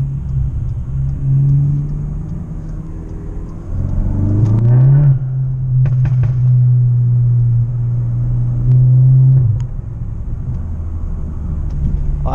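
Stage 2 tuned Audi A3 out for a night drive, its engine giving a loud steady low drone from inside the cabin that rises with acceleration in the middle before easing off, with no talking.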